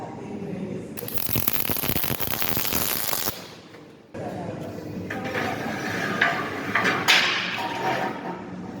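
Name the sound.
tack welding a steel tube onto an arm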